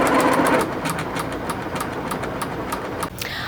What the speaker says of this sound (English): turn the machine on, run the machine without a bobbin installed for about 10 seconds